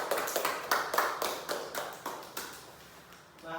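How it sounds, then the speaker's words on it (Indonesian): Classroom applause for a student after a presentation in an Indonesian school lesson, a burst of hand claps from a group of pupils, fairly close and moderately loud, fading out over a few seconds. "Tepuk tangan dulu untuk Erika."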